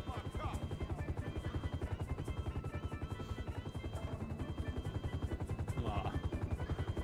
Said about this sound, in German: Vielleicht können wir jetzt ein paar Heli oben noch.